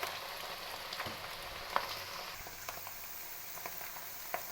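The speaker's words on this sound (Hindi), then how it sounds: "मैंने इसको अच्छे से फ्राई करना है" Bitter gourd skins frying in oil in a karahi, a steady soft sizzle with scattered faint pops and crackles, fairly quiet and even throughout, no voices.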